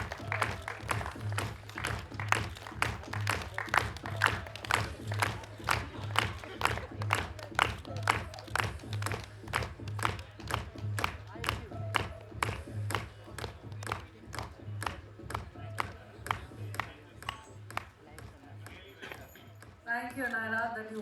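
Audience at a Bollywood song launch event claps steadily in a dense, continuous rhythm for about twenty seconds, with a low hum underneath and cheers rising briefly near the end.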